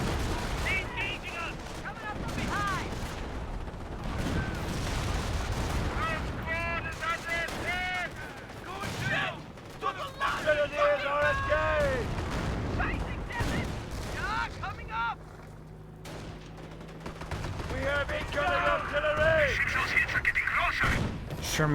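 Bursts of base machine gun fire rattle in the Company of Heroes battle, mixed with rifle shots and booming artillery impacts in a dense, continuous wartime din.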